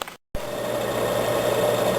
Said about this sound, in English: I got the drill press running